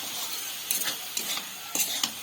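A coconut and jaggery filling is stirred in a pan, giving a soft continuous hiss with a few distinct scraping strokes of the spoon, close and fairly quiet.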